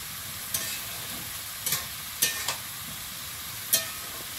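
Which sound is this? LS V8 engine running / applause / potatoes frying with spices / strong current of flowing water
potatoes frying with spices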